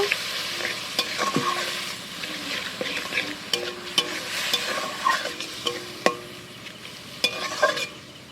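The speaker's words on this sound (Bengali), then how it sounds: "তো দিয়ে দেবো আদা রসুন বাটাটাকে, আরও ভালো করে কষে নেব" Onion and ginger-garlic paste being stir-fried in a pan give a steady sizzle with repeated close scrapes and taps from the stirring utensil, which come in irregular bursts.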